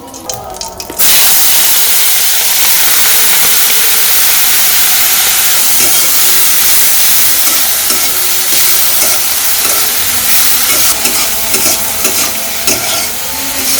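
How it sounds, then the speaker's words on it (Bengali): Shrimp dropped into hot oil in a village-style kitchen burst into a loud, dense sizzle that starts abruptly and holds steady, with occasional crackles and stirring clatter near the end. "এখন মাছগুলা তেলে দিয়ে দিই।"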